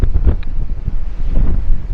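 Strong wind by a river buffets the microphone in heavy, uneven gusts of low rumbling noise, loud and close, with no voices.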